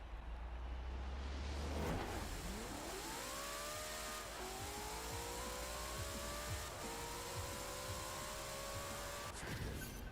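Forza Horizon 4 drag-tuned Ford Mustang with about 1900 hp launching hard, engine note climbing steadily through several gear shifts with brief dips, loud and continuous with no talk.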